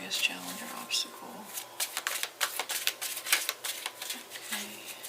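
A deck of cards is shuffled for a tarot reading, with quick papery riffles and soft slaps in bursts, close and fairly quiet, with a voice speaking at moments in between.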